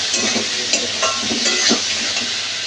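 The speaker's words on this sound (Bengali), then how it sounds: "আলুটা ভালো করে একটু লাল লাল করে ভাজি করে নেব।" Potatoes frying in a pan with salt and turmeric, a steady close sizzle with scattered stirring scrapes and clinks of a utensil against cookware, no talking.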